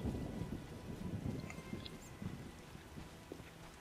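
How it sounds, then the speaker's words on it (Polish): Rain falls in The Witcher game, a quiet steady patter with low rumbling beneath, faint and continuous with no talk. "zmniejszyła się widoczność, jak zaczął padać deszcz"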